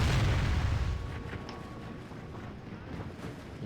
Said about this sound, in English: It looks like the catapults are about to fire in at them.